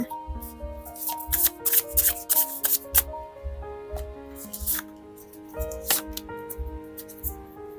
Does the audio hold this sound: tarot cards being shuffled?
yes